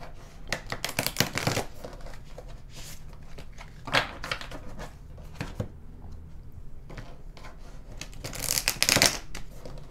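A deck of Tao Oracle cards is shuffled by hand indoors, with bursts of riffling and flicking at the start, middle and end, separated by softer handling noises, close and crisp.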